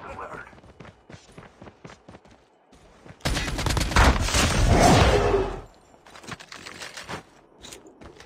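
Gunfire in the mobile battle royale game Call of Duty Mobile: a loud, dense burst of rapid shots lasting about two seconds, surrounded by quieter scattered in-game sounds and what may be distant voices.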